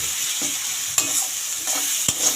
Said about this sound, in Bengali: পেঁয়াজ কুচিটা এবার ভালো করে ভেজে নেব।